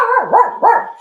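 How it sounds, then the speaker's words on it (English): Dog barking excitedly indoors, a loud, close series of three or so sharp, rising-and-falling barks in quick succession. "We've got a dog going nuts."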